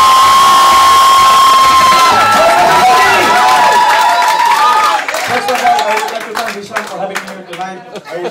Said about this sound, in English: whatever you are, round of applause for him.